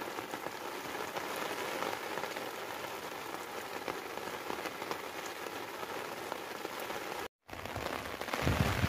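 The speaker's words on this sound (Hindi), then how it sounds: "हल्की हल्की भी बारिश हो रही है" Light morning rain falling steadily over a village in rural Punjab, Pakistan, a dense even patter of drops close by with no talk, briefly cut out near the end before resuming slightly louder.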